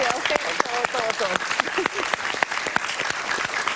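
Studio audience applause for Venezuelan civil society during a talk show, a steady burst of clapping with sharp individual claps under a voice speaking through it.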